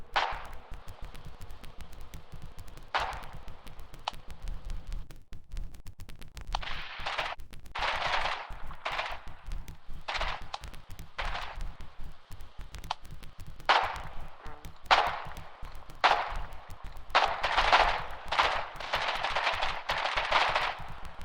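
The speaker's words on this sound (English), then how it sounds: "Oh, I am being currently fired upon." Gunfire from the Foxhole war video game, with repeated bursts of automatic fire and single shots at varying distances, getting denser and louder toward the end over a low rumbling background.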